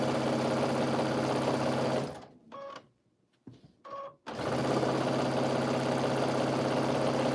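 A sewing machine runs steadily, stitching fabric loud and close, then stops for about two seconds with a few faint clicks before starting up again at the same steady hum.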